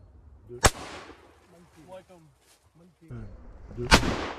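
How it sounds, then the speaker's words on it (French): Two sharp shotgun blasts about three seconds apart while hunting wood pigeons, loud and close, with quiet murmuring voices between them. "on réussit un très beau tir car on entend un seul coup"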